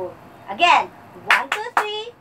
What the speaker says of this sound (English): Let's give Quarantina a beautiful applause.